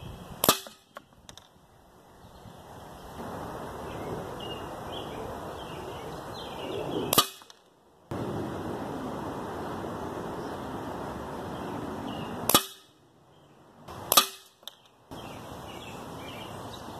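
A Crosman 2400KT air pistol fires PBA pellets in four sharp, loud cracks spaced several seconds apart, each dropping into brief near-silence, with faint birds and outdoor ambience between shots.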